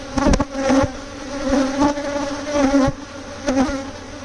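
Dense buzzing from a spring honeybee swarm at a Layens hive transfer fills the air, steady and close, with bees swelling louder as they pass near.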